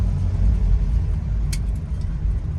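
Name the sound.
1974 Toyota Corolla KE20 driving on a test drive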